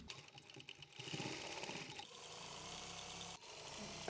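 A sewing machine runs steadily along a churidar pants seam, a continuous close mechanical whir that speeds up after the first second and holds with only brief dips.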